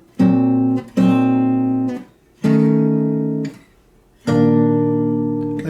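Four separate strummed guitar chords from a song, each ringing for about a second before stopping, with short gaps between them. No one speaks.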